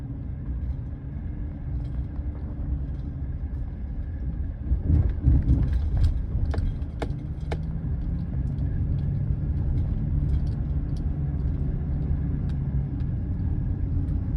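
A muscle car crew cab, driving for the first time in about a decade after years baking in the sun, gives off a steady low engine rumble heard from inside the cab, with scattered light rattles and clicks over the drone.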